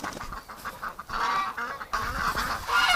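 A flock of ducks calls outdoors in winter, repeated honking quacks overlapping in quick, uneven bursts at moderate distance, growing louder toward the end.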